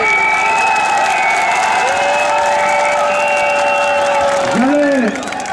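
Crowd applause honoring Lucien Makanera Kake at a Guinean political gathering, a dense, steady wash of clapping with a sustained ringing tone running over it that dips and fades near the end.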